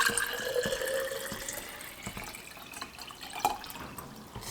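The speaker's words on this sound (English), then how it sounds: "So I will put some water in it." Water runs into a glass jar from a juice shop, a thin trickling pour with faint drips and clinks, close and fairly quiet, with no talking.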